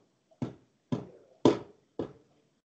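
Four hollow wooden knocks in a theatre before the play starts, evenly spaced about half a second apart, each sharp and resonant against silence.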